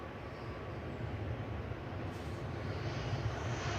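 A Ryanair Boeing 737 MAX 8200 from Paris at Manchester Airport gives a steady, distant jet rumble. It stays broad and unbroken, swelling slightly over a few seconds, with no voices.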